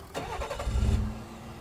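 2018 Ford F-150 with a Power Stroke V6 diesel engine cranks and catches in a short burst, then settles into a subdued, fairly quiet idle.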